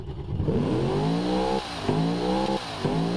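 A 1977 Ford Falcon XC Dominator with mechanical fuel injection, in the BeamNG driving game, revs three times, each rise a rough, harmonic-rich climb that cuts off and drops back, the first longest and the last shortest.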